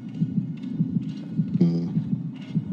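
In the video game Dead by Daylight, the killer's heartbeat throbs in a steady, deep pulse of low thumps, repeating evenly at moderate loudness, with a brief tonal in-game sound and faint effects layered in midway.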